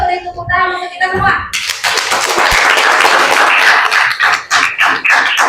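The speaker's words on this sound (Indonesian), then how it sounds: "Sekali lagi yuk beri tepuk tangan untuk kita semua." A classroom of schoolchildren breaking into dense, sustained applause after a lesson, loud and close, continuing for several seconds after a teacher speaks briefly.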